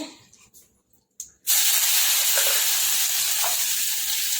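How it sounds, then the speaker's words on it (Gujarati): Green garlic, ginger and green chillies hit hot oil already holding popped mustard seeds and asafoetida, bursting into a loud, steady sizzle after a few quiet clinks, then frying on continuously and closely without any talk. "થોડુંક લીલું લસણ હવે આપણે શેકી લઈશું"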